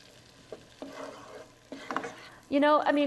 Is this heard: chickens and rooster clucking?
no